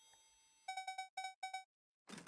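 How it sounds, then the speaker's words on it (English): A video game doorbell chimes as a quick run of bright electronic tones in three close bursts, loud and clean over near silence, then a short burst of noisy sound. "Ew, the doorbell."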